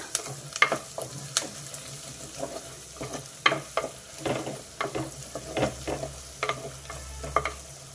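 Curry leaves and onions frying in oil for a gongura and chana dal curry, a soft steady sizzle broken by sharp spoon clinks and stirring scrapes against the pan, close by with no voices.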